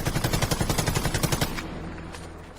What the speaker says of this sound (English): This machine gun.